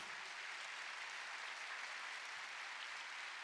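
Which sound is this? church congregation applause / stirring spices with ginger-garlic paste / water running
church congregation applause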